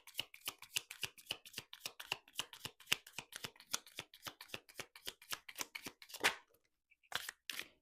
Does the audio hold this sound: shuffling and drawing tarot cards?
yes